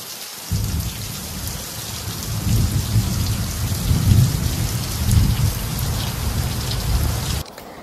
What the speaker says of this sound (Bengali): বৃষ্টির আওয়াজটা দেখো একবার,